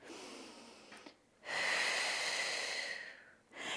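A pregnant woman doing Pilates glute lifts breathes audibly: a short breath, then a long, steady exhale lasting about two seconds, then another breath begins. Close and fairly quiet, with no talking over it.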